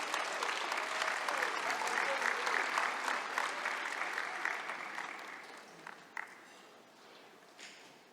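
Audience applause at a scholarship awards ceremony: sustained, dense clapping from a large crowd for about six seconds, then tapering off into scattered claps and quiet.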